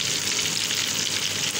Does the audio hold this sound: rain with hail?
no